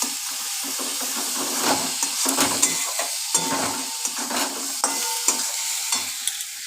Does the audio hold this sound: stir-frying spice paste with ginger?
yes